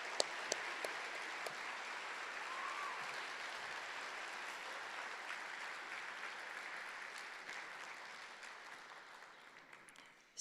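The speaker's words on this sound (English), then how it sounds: "So let's just give Lise-Marie for a round of applause for her great lecture." Sustained audience applause follows a fusion science lecture in a hall: dense, even clapping with a few sharper claps, holding steady before slowly tapering off.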